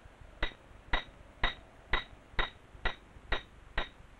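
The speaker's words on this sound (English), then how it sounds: "The lead climber's life depends on the pitons he hammers into cracks." A climber hammers a piton into a rock crack on a Patagonian mountain face, with eight sharp metallic strikes at an even, steady pace, close and clear with a faint ringing after each blow.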